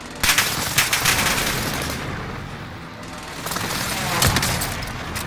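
Rapid bursts of video game gunfire crackle throughout a chaotic online battle royale match, with sharp shots clustered near the start and again near the end.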